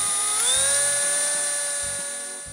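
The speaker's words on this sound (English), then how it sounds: "So I'll do the drilling" A power drill drilling into plastic whines steadily at high pitch, rising slightly as it gets going, then holding a continuous close-up buzz with a few faint knocks beneath.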